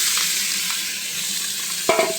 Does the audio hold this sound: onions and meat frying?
yes